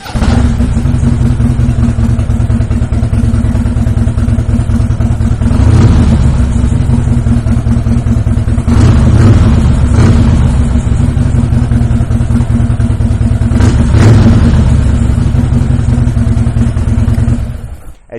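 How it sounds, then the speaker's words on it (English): A 2017 Harley-Davidson Dyna Wide Glide with aftermarket exhaust idles loudly with a deep, throaty rumble, blipped into sharp revs three times before settling back to a steady idle. "As you can hear, that exhaust system sounds fantastic"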